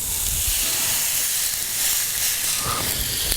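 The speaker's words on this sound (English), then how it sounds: "as soon as you hear that sizzle" Steady hissing sizzle of prime rib searing in a hot pan, continuous and fairly loud with no talking.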